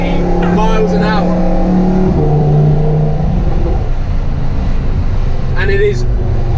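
A Lamborghini drives through the Monaco tunnel, its engine a loud, steady close rumble with tonal drone that shifts as it accelerates, while people talk inside the car.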